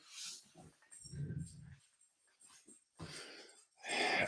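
A standard poodle and golden retriever cross dog whimpering, short breathy whines and nasal wheezes in close bursts indoors, with pauses between them.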